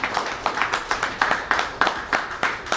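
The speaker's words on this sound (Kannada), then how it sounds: "ದಯಮಾಡಿ ಚಪ್ಪಾಳೆ" Audience clapping in slow, evenly spaced claps at a news bulletin event, steady rhythmic hand claps of moderate loudness with faint voices beneath.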